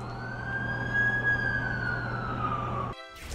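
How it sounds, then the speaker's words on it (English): A loud wailing ambulance siren in a video game sweeps slowly over a low engine rumble, then cuts off abruptly, followed by a brief clatter. "That's the ambulance I called."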